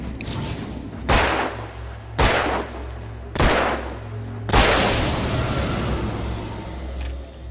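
Gunshots in the video game Alan Wake: four loud, booming shots spaced about a second apart, each with a long reverberant tail over a low background rumble, no talking.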